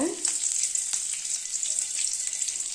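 Cumin seeds, mustard seeds and curry leaves sizzle in hot oil for a wheat rava idli tempering, a bright, steady crackling hiss with small pops, close and continuous.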